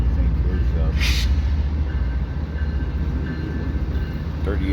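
A southbound freight train approaching and rolling past near a rail yard, a loud, continuous low rumble with a brief hiss partway through.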